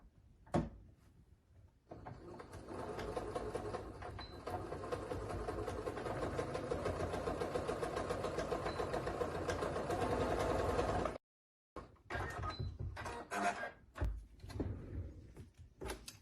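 A sewing machine runs in a continuous close whir for about nine seconds while stitching down the sides of a fabric face mask, followed by a brief pause and a few short handling clatters.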